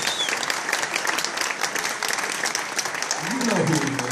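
Audience applause at a live music performance, dense and steady, with a voice speaking over the clapping toward the end.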